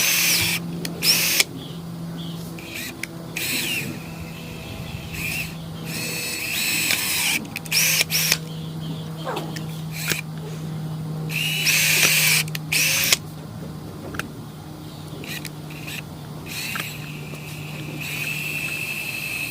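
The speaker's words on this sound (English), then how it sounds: "So now I'm going to go to the other end and drill holes with my drill bit in the other side." A power drill whirs in repeated bursts, starting and stopping, with a steady motor hum between the louder grinding stretches.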